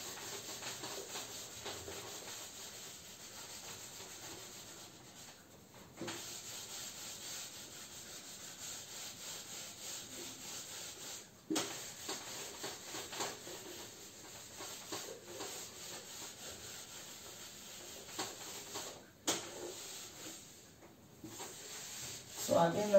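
Rubbing strokes wipe writing off a board in a classroom lesson, soft repeated scrubbing passes coming in bursts with short pauses, fairly quiet.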